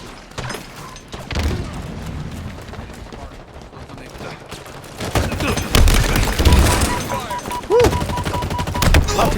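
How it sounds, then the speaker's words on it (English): Repeated grenade blasts and gunfire in a Halo Infinite multiplayer match, heavy thuds and bursts stacking up loudly over a continuous battle din, with game effects mixed in. "Lots of grenades going off"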